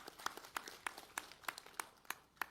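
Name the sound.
audience applause for the head of Indonesia's narcotics agency BNN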